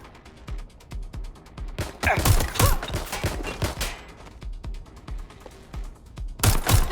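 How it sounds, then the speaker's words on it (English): Rapid video-game gunfire in Watch Dogs Legion, a fast fusillade of sharp automatic shots with denser bursts near the middle and end, loud and close. "I'm taking fire!"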